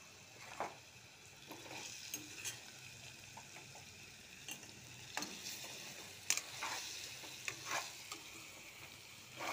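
Turmeric and cumin powder being stirred in a frying pan, with soft scraping strokes at an irregular pace over a faint background sizzle, quiet and close.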